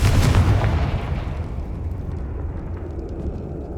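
A Confringo fire-blast spell explodes in the video game Hogwarts Legacy on PS5, a loud booming burst right at the start that rolls off into a long, rumbling decay.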